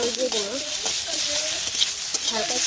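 Ginger-garlic paste fries in hot oil for a fish curry, a steady broadband sizzle with stirring scrapes throughout, close and fairly loud, while faint voices and tonal background sounds murmur underneath.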